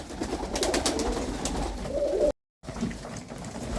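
Murzyn dark pigeons coo at the feeders in winter, with soft, close, repeated cooing and wing or shuffling noise around it and a brief gap partway through.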